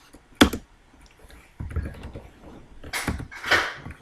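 Java code is typed on a computer keyboard at close range: scattered soft keystrokes, with several sharper clacks and bursts of quicker typing.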